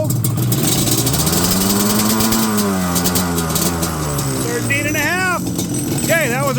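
A Yamaha Banshee ATV engine idling steadily and loudly nearby with a continuous rough drone, while someone talks over it.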